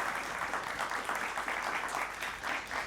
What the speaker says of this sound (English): Big round of applause for Team Nextplay AI.